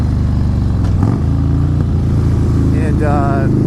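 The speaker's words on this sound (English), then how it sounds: "the ride up here is better on the Harley. The sounds are better" A Harley-Davidson Fat Boy S motorcycle rumbles along a California road with a deep, steady engine drone and brief rev changes, while someone talks over it.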